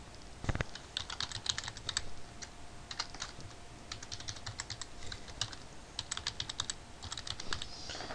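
A password is typed on a computer keyboard, a quiet run of quick, irregular key clicks in short bursts with a few brief pauses, up close and with no talking.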